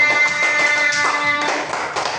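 Schoolchildren in a primary classroom clap together in a quick, uneven burst of many small hands, steady and fairly close for the full two seconds, with faint voices mixed in.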